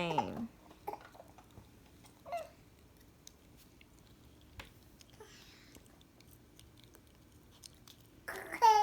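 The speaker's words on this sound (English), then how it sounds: "Over there smacking your gum." Gum being smacked and chewed up close indoors, faint repeated wet clicks and smacks spread through a quiet stretch, with brief bursts of a voice.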